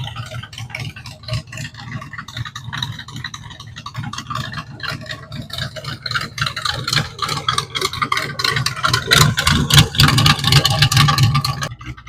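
A 283 V8 in a 1934 Ford pickup hot rod rumbles steadily from inside the cab with a low, throbbing note, growing louder and rougher toward the end as it climbs in revs, with rattles over the engine.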